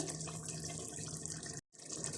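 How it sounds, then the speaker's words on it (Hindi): Steady stream of water pouring into a pot of fish curry, continuous and fairly quiet, with a brief cut before the flow resumes. "थोड़ा सा पानी ऐड करेंगे।"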